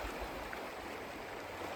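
Creek water flowing steadily after a tricky crossing, a continuous close rushing wash with surging waves against the bank, alone without voices.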